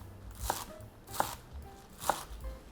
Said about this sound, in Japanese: 根元を切り落としたら小松菜もみじん切り、粗みじん切りにします